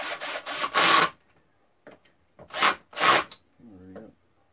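Several scraping, ratcheting bursts come up close while bolts are tightened during assembly of a Respawn gaming chair. The bursts arrive in groups with pauses between them, and a brief voice is heard.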